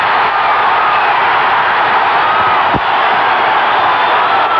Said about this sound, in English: Crowd responding to LeDoux